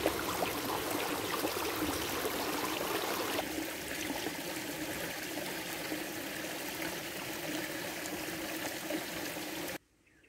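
Water running in a countryside stream on a spring walk near Granada, a continuous close rushing flow that softens partway through and cuts off abruptly at the end.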